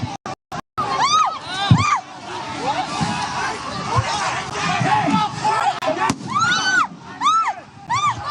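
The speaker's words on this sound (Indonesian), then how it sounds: "ada beberapa suara dari kembang api yang dilemparkan ke arah masa aksi demonstrasi" At a rowdy street protest in front of a parliament building, a dense crowd shouts, whistles and cheers, with sharp cracks and pops of thrown fireworks breaking through the din at several points.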